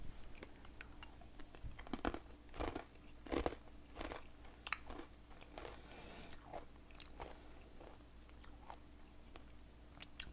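Close, repeated bites and chewing of brownie batter hummus, with sticky crunchy mastication sounds and soft smacks in an uneven rhythm over about ten seconds, no talking.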